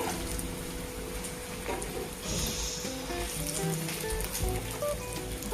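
Brinjal pieces fry in oil with a dense, continuous crackling sizzle, close and moderately loud, steady for the whole stretch with no talking.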